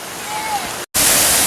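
A big waterfall roars as a steady broadband wash of rushing water, briefly cut by a short gap before returning louder.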